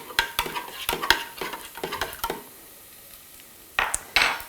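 Mushrooms, garlic, ginger and spring onions are stirred in a pan with a spatula, making a run of close scraping and clacking strokes over a soft sizzle. A short pause follows, then two more bursts of stirring.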